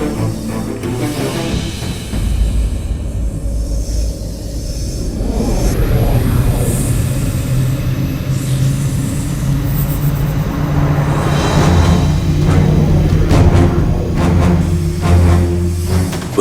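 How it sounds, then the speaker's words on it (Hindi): The mythical flying chariot Pushpak Vimana passes overhead as a steady, loud airborne engine roar, like an aircraft, sustained throughout with no voices. "पुष्पक विमान,"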